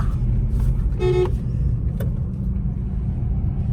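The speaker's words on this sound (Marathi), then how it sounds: "पुण्याचे ट्रॅफिक चालू झालेले आहे" Busy road traffic in Pune city rumbles steadily from inside a car, with a short car horn toot and a second brief click-like blip over the engine drone.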